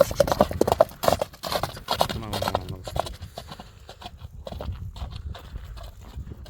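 A horse runs with rapid clip-clop hooves close by for the first few seconds, then the beat fades into rumbling outdoor noise.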